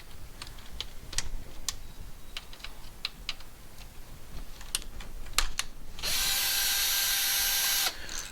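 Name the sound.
removing bolts holding the axial fixation pin on a BMW R1250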